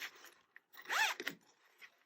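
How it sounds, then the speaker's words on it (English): A zip on a fabric pouch is pulled open in one short, rasping run near the middle, preceded and followed by faint handling rustles of the fabric. "So you can open this with any of those zips"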